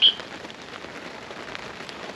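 Rain falls steadily at a small lake during carp fishing, a soft continuous patter and hiss of drops on surfaces throughout, fairly close and without voices.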